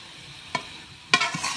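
Kalai greens stir-fried in a pan: two scraping stir strokes over a low, steady sizzle, close by, with no voices.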